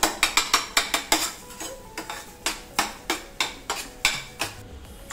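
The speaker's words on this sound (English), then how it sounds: "So you have to cook them like this, like they make it on tawa. Noise, taka-tak noise has to come." A metal spatula rapidly chopping and clattering on a hot iron tawa while eggs cook for Mumbai street-style anda ghotala: loud, close, rhythmic clacks, around twenty strikes in quick runs, with a faint sizzle underneath and no talking.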